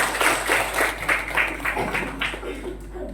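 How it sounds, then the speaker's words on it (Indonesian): Audience applause at a primary school farewell ceremony for graduating sixth graders at SD Negeri 3 Trukan, heard as a rhythmic, fairly soft burst of clapping in a steady beat that thins out toward the end. "Tepuk tangan."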